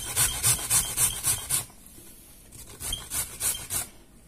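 A carrot is rubbed against a fine grater in quick rhythmic strokes, a raspy scraping burst of about six passes, a short pause, then another run of strokes, close and clear.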